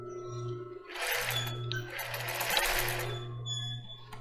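A sewing machine stitches lace for a bra, running in close, rapid bursts of mechanical whirring with a short pause as it reverses into a backstitch, then resumes at a steady pace.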